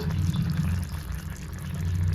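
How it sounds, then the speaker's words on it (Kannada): A little water trickles steadily into a Kerala-style curry of bottle gourd and legumes, a soft, close, continuous pouring rush with no talking. "ಇವಾಗ ಇದಕ್ಕೆ ಒಂಚೂರು ನೀರು ಸೇರಿಸ್ಕೊಂಡು"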